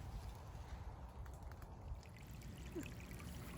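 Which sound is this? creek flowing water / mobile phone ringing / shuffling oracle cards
creek flowing water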